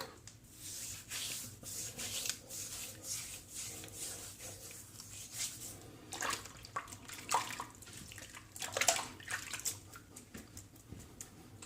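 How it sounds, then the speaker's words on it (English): Water splashes and trickles in short, uneven bursts, with close rubbing and swishing sounds like a face being rinsed at a sink after a shaving pass. "Do a quick little rinse."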